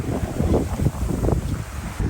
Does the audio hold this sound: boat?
yes